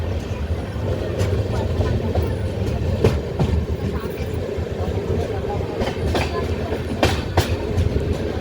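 The Satavahana Superfast Intercity Express runs on the Vijayawada–Secunderabad line with a steady rumble and a regular clickety-clack of wheels over rail joints, fairly close, while faint voices murmur in the background.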